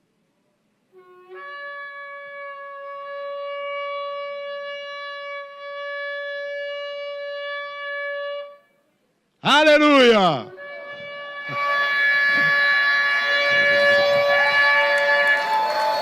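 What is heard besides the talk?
shofar being blown in church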